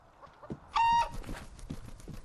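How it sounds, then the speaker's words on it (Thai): Short burst of chicken clucking in the horror game Evil Nun The Broken Mask, a loud squawk followed by softer scattered clucks and footstep-like thuds in a quiet scene. "มีเสียไก่ด้วย"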